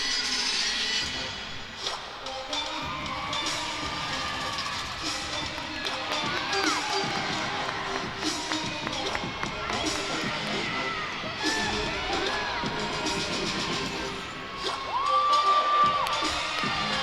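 A crowd at a college gymnastics floor routine cheers and shouts continuously, a loud roar of voices and whoops swelling and dipping throughout, with a brief surge near the end.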